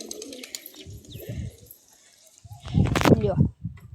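Pigeons in a kept loft give soft, throaty coos and a burst of fluttering commotion near the end, heard close by alongside talk.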